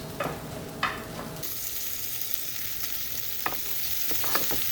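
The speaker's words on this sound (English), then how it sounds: "Can you hear that? The sizzle? That means it's going to start browning really fast." Pearl barley sizzles steadily in a hot pan, with a few scraping stirs and soft clicks of a utensil against the pan.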